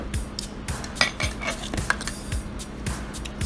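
A spoon clinks and scrapes against a dish of dessert hummus in quick, light taps, close and fairly soft.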